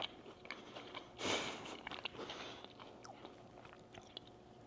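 A single crisp bite into a gochujang caramel cookie, crispy outside and soft in the center, followed by quiet close chewing with faint crunching; no talking.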